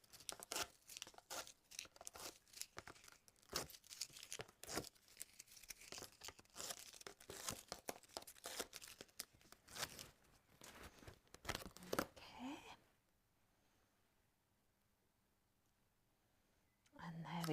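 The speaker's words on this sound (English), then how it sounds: "we'll just peel the backs off" Backing paper being peeled off die-cut Christmas tree card pieces gives a close, rapid run of crackly tearing and crinkling for about twelve seconds, then drops to near silence.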